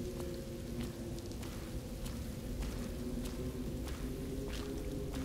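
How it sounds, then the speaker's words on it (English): Steady rainfall in the video game Road 96, a dense continuous hiss with scattered droplet taps and a low rumbling bed, constant loudness throughout without speech. "Why is it raining?"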